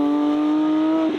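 Inside a Porsche 911 GT3 70 Years driving on the road, the engine holds a loud, steady drone throughout the short stretch, with no talk.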